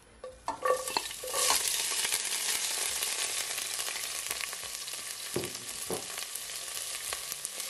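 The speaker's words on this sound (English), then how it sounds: "So now I'm gonna add all my herbs, and you're just gonna allow it to saute" Herbs sauté in hot vegetable oil with a bright, steady sizzle throughout, starting with a few clattering stirs and sharper scrapes of a utensil against the pan midway, close and with no talk.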